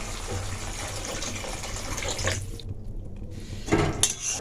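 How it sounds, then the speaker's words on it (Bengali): Water is poured into a simmering Bengali fish curry masala of spices and yogurt in a pan, giving a steady gushing pour with a brief pause and a final splash. "এবার আমি জল দিয়ে দেবো"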